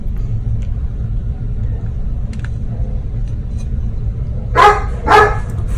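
Two short, sharp dog barks at a cat ring out near the end, over a steady low rumble of traffic or engine noise.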